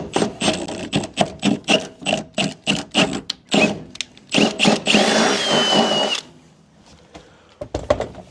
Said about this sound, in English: Alright, so I've gone through and drilled all the holes.